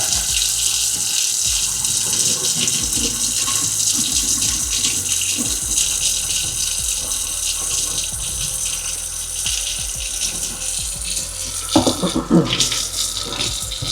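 Slightly warm water runs steadily from a sink tap with a loud, continuous hiss and splash, briefly disturbed near the end as something is moved under the stream.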